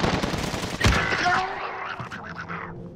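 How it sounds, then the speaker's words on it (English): Automatic LMG fire from a Modern Warfare search-and-destroy match rattles in a dense burst of rapid shots, with a sharp impact near the middle before the firing trails off into quieter game noise. "He's using an LMG."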